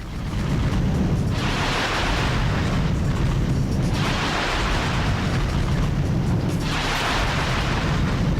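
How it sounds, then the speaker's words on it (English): Explosions from a bomb in the Ratchet and Clank video game, with loud, sustained rumbling blasts surging in repeated waves over a constant roar. "Now is when we use the bomb."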